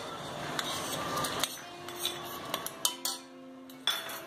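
Metal spoon clinks and scrapes against a pot while stirring dal, with a few sharper knocks near the end; close and fairly quiet, no voices.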